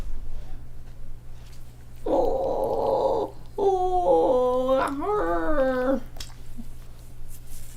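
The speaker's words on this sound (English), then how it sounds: "It's the dog. Look at the dog." A dog lets out a drawn-out, wavering howl that rises and falls in pitch, then a few whimpering moans, close and fairly loud over a steady low hum.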